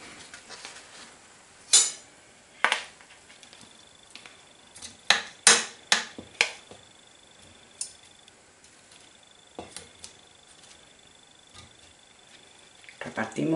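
Potatoes go into a casserole with roast chicken, setting off a series of sharp clinks and knocks against the pot, several in quick succession and then sparser, close by and fairly loud with quiet gaps between.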